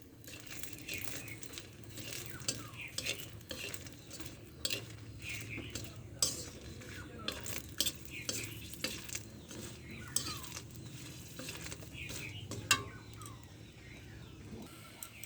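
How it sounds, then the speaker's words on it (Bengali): Chillies fry in oil while a utensil stirs and scrapes against the pan, a low crackle broken by frequent clinks and sharper knocks, close and fairly quiet. "এমনভাবে ভেজে নেব মরিচ ভাজার সেন্টটা বেরোবে খুব সুন্দর"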